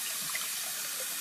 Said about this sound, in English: I'm going to just do some warm water, like a shower, over him